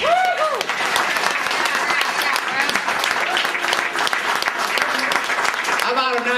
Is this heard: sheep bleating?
no